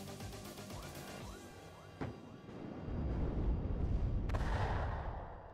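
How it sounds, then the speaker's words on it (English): Artillery rounds landing in the WARNO combat game, a sharp crack followed by another impact and then a heavy, rumbling low roar of shells hitting that swells and lingers. "Artillery goes in."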